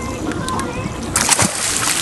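A fish is tossed back into the water from a boat deck, giving a sudden close splash and slosh after a stretch of lapping water, with people talking around it.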